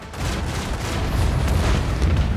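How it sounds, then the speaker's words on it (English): Port side cannons of a ship firing on a Viper class vessel in the Rogue Trader video game, a continuous barrage of deep booms and rumbling blasts layered over one another throughout. "Then I can do a drive-by hitting this Viper class with the port side cannons"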